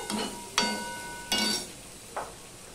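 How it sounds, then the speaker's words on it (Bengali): Ginger and tomato with green chillies are sautéed and stirred in a pan, giving a low sizzle under several distinct, evenly spaced spatula scrapes close by. "দিয়ে এগুলো মিশিয়ে নিয়ে আবারও একটু কষিয়ে নেব"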